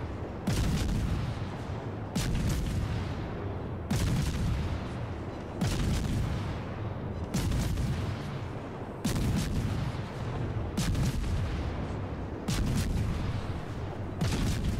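Secondary guns of the battleship Georgia firing in the naval video game World of Warships, loud booming salvos repeating roughly every two seconds, each a sharp blast with a short rumbling tail, no voices.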